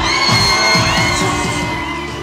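A packed club crowd at Playhouse Hollywood roars and whoops loudly, a dense sustained cheer with shouting voices over a thumping low pulse.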